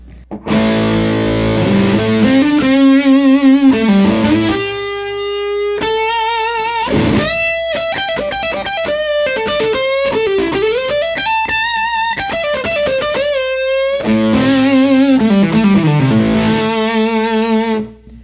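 Overdriven electric guitar through a boost pedal and Chase Tone preamp, crunchy, plays sustained chords and bending lead notes, loud and close, with no talking.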